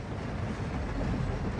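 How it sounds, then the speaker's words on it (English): A train in a video game rolls along with a steady, continuous low rumble and rattle, loud and close, with no break over its length and no voices. "I'm gonna jump on this train."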